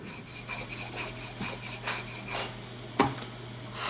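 A hatchet edge is stropped by hand, with repeated soft rhythmic rubbing strokes about every half second and a sharper tap near the end, close and quiet with no talk.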